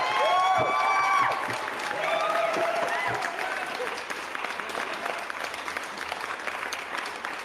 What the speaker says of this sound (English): Everybody give it up for Brandon Scruggs.